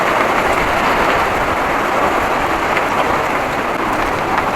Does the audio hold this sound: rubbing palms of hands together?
no